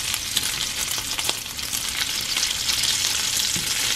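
Bacon fries in a pan with a steady, close crackling sizzle and small spitting pops throughout.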